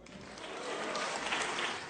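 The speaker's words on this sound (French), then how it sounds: "Applaudissements nourris du côté des écologistes" Sustained applause from the ecologists' benches in the French Senate, a dense steady wash of many hands heard at a distance and fairly faint, with no voices.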